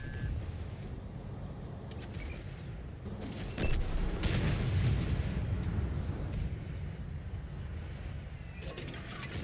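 Tank cannon fire in a video game, HEAT shells going off as deep booms amid constant rumbling battle noise, one louder blast standing out midway.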